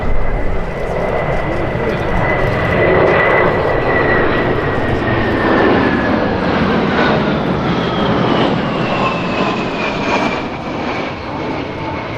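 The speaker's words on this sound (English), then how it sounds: "In the second and final pass from the left, the RAF Rivet joint." An RAF Rivet Joint reconnaissance jet makes a loud, sustained flypast at an air display, its broad engine roar steady throughout with a slowly falling whine as it passes.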